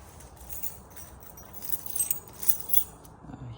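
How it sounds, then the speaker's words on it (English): Car keys for a 2024 Mitsubishi Mirage G4 jangle close by in a few quick metallic bursts, loudest near the middle of the moment, with no talking over them. "I think got the keys."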